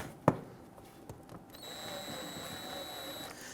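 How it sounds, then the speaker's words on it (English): A power tool drives fender liner screws on a Buick Enclave, with a sharp tap first, then a quiet sustained whirring buzz lasting a couple of seconds at close range and moderate-low level. "Let's go ahead and install our fender liner screws."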